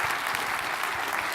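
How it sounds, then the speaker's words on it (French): Sustained applause from a conference audience honoring the participants at a 2017 trade congress, dense steady clapping filling the whole stretch with no talk over it. "Applaudissements pour"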